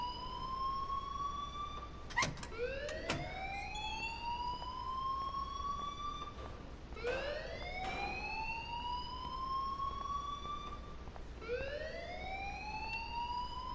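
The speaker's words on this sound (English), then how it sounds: "Leave Miss Caulfield alone, and please turn off that alarm since that's your job." An electronic alarm in the video game Life is Strange Remastered sounds in repeated rising whooping sweeps, each climbing steadily and restarting about every four seconds, loud and close with no talk.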